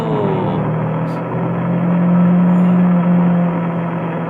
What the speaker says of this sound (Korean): 차로 오토바이입니다.